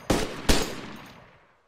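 Two loud gunshots in DayZ fire about half a second apart, each one's echo trailing away over the next second, with no talk over them.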